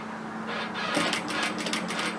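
Domestic sewing machine running a seam on a bias-cut slip nightgown and back tacking, a steady close mechanical whir with rapid needle clatter that picks up partway through.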